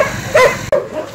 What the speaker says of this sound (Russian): Ой, какая хорошая собачушка